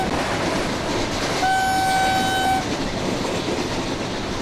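A Vande Bharat Express horn in Train Simulator sounds one steady, loud blast of about a second over continuous rolling train noise.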